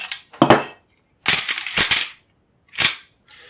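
A Grand Power pistol being handled and checked empty gives several sharp, close metallic clacks in short bursts, with quiet gaps between them and no talk.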